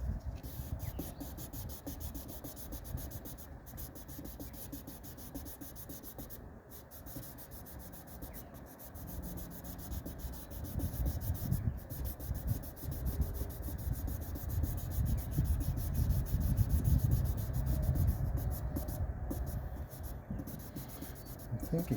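A plastic boat instrument gauge lens is wet-sanded by hand with 1500 grit paper, a steady close scraping that builds gently in loudness over a low background hum, with no talking.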